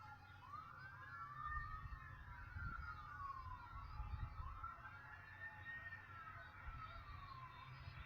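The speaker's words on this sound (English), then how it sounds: "It's a fucking ambulance." A siren wails up and down in slow sweeping cycles, distant and faint, over a low rumbling background.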